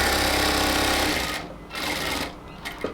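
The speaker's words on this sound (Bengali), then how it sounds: "লক সেলাই দিয়ে পেট পর্যন্ত আসলাম, এরপরে একটু ঘুরাই নিয়ে কোমর পর্যন্ত সেলাই করব।" An overlock sewing machine runs fast and loud while lock-stitching the body seam of a cotton kameez, then slows and pauses briefly before a short final burst.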